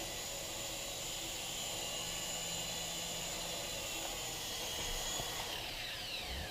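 A Swann Micro Attack indoor RC helicopter flying in to land beside a laptop, heard as a constant close high-pitched rotor and motor whine, with a shift in pitch toward the end.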